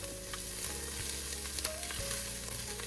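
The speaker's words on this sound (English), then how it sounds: "And mix that together, continue to saute." Ingredients for BBQ baked beans sautéing in a pan, a steady close sizzle and crackle with occasional scrape and stir noises, no talking.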